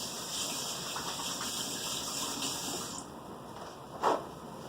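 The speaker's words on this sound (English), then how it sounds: "the next thing I'm going to do is rinse out my cup" Running tap water gushes steadily while a cup is rinsed out, nearby and alone, ending in a short splashy burst.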